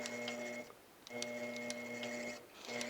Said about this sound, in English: I'm going to take several tiny little locking stitches.